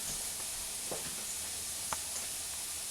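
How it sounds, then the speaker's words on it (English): Potatoes fry on a wood stove with a soft, steady sizzling hiss, faint and continuous, broken by a couple of small crackles. "Potatoes frying on the wood stove."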